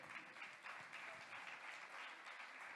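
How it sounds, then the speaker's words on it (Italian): An audience applauds steadily throughout, a dense, even patter of clapping with no breaks. "Fate un applauso."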